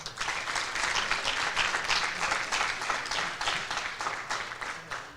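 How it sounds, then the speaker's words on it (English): A crowd at a high school fall sports awards ceremony claps in a steady, moderately loud round of applause that holds evenly throughout. "Big round of applause, folks."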